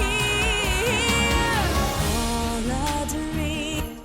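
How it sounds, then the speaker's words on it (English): An orchestral arrangement plays throughout, with a cymbal swell building over sustained strings and horns and a crash cymbal hit ringing out and fading near the end. "and then a hit, and then a crash cymbal hit like that."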